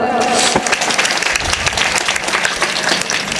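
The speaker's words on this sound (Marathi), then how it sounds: "एकदा स्वतःसाठी सुद्धा जोरदार टाळ्या वाजवा." A dense burst of applause from the audience at a Marathi kirtan, loud and continuous for a few seconds as many hands clap together.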